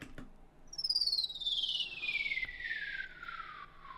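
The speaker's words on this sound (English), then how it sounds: "It's a downlifter." A downlifter sound effect sample for electronic music production: a bright synthetic tone sweeps smoothly downward in pitch over about three seconds, clean and alone, swelling slightly before fading out.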